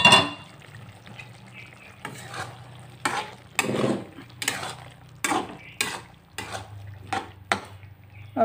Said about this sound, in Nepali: अब म चलाउँछु एकछिन।